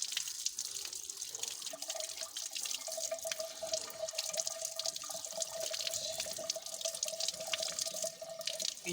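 Radishes being rinsed under a running kitchen tap, a steady close splashing stream of water with small drips and clatter, no talking.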